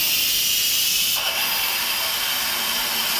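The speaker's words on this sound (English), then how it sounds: "release the steam from it." An Instant Pot pressure cooker vents steam in a loud, steady hiss that swells brighter and stronger about a second in and then holds constant.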